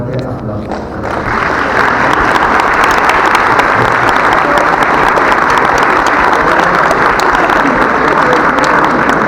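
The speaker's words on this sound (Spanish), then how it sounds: "Recibámonos con un fuerte aplauso." A conference audience at a Latin American chiropractic congress breaks into loud, sustained applause that swells after the first second and holds as a dense, even wall of clapping close by.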